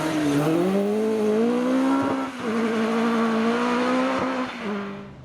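A two-wheel drive rally car runs flat out in sixth gear on a stage, its engine holding a loud, steady high-revving drone with slight pitch rises and a couple of brief dips, close and alone.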